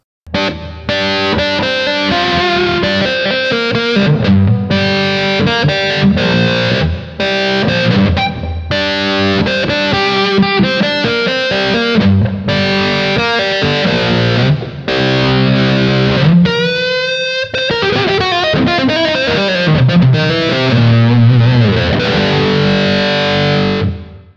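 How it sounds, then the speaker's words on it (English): A loud, fuzzy distorted electric guitar through an Electro-Harmonix Cock Fight Plus wah/fuzz pedal, wah parked in a fixed, nasal tone, plays choppy riffs and sustained notes, continuous and unaccompanied. "Setting or parking a wah in one spot and not moving it is called the cocked wah."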